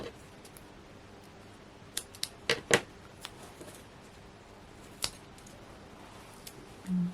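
Scissors snip small bits of craft card for an elephant papercraft project in a quiet room. There are a few sharp, scattered clicks and cuts, close but fairly soft, with a short rustle at the end.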